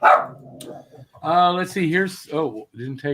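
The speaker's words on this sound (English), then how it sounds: "That's my dog barking because she heard one of her friends bark." A pet dog barks a few times in the background while someone talks over it, the barks partly buried under his speech.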